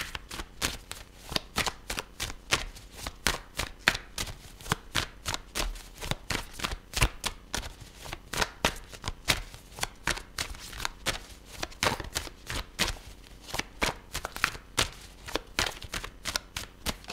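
Tarot cards being shuffled by hand, a continuous run of crisp, rhythmic riffling and slapping strokes, close and steady throughout with no talking.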